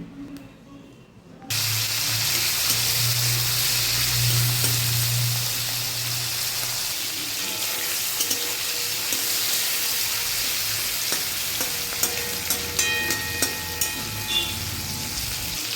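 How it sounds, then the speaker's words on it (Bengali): Small shrimp, rubbed with salt and turmeric, hit hot oil with a sudden loud sizzle that settles into steady crackling frying, with occasional pops and clinks of a utensil near the end. "ছোট ছোট চিংড়ি মাছ। এগুলো আগে প্রথমে ভেজে নেব।"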